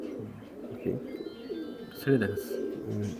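High-flying Indian and Pakistani pigeons at a farm give low, soft coos in short repeated bursts, with people talking nearby throughout.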